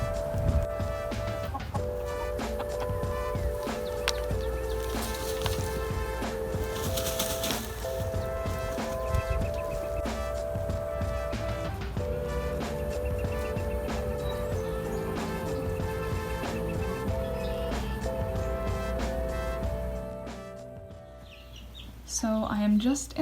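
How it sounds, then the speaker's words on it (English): Chickens cluck and murmur steadily close by on a farm, with a rooster among them, and a person talks over the flock. "He is our rooster."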